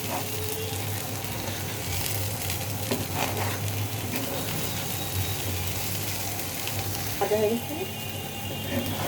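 Rice for plain pulao fries in oil in a pan while being stirred, giving a steady close sizzle broken by scraping and clattering strokes throughout, with no voices.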